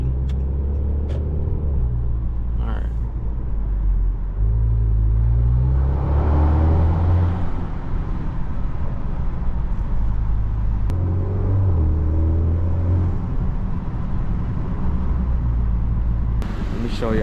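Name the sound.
modified car engine rumbling while driving at night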